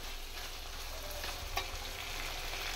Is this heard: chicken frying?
yes